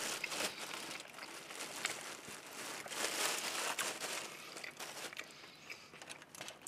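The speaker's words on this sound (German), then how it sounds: "Der Adi kämpft so lange mit der Tüte." A plastic bag holding a falafel or halloumi döner crinkles and rustles as it is handled, with irregular close crackling bursts of varying loudness.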